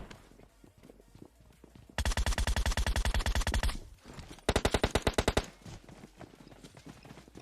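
Two long bursts of rapid automatic gunfire from PUBG Mobile hammer in a fast, even rhythm, with a short pause between them and quieter game sounds before and after.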